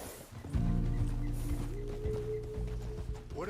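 Horse hooves clip-clop in Red Dead Redemption 2, a few uneven thuds close by over a low mechanical hum, with no one speaking.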